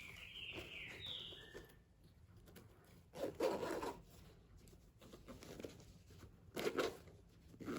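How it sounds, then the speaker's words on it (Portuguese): Zipper being pulled shut on a handmade fabric bag, a few faint rubbing zips with two louder rasping pulls near the middle and end, quiet and close with no voices. "Fechar o fechicler."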